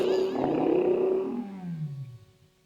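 A lion roars loudly and close, a single long rumbling call that swells and then trails off into a lower, fading groan over a couple of seconds.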